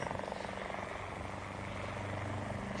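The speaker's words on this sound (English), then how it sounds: "Wait. There it is. Look, there. A helicopter." A helicopter in a radio drama sound effect drones overhead with a steady rotor chop and engine roar, loud and continuous throughout, with no talk over it.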